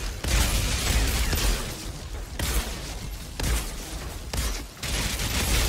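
Dense, continuous gunfire from the Outriders video game, loud and nearly unbroken across the clip with brief dips between sustained bursts, no voices.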